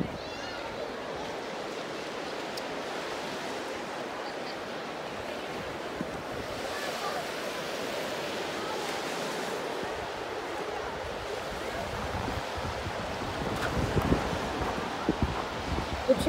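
Sea waves break and wash steadily onto the beach at the Charmillion Sea Life Resort, a continuous surf roar with wind that swells louder near the end; no one speaks.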